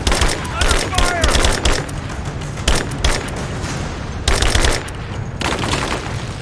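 Gunfire in the video game Rise of the Tomb Raider: dense bursts of automatic and single shots, loud and close, in repeated volleys with brief gaps between them.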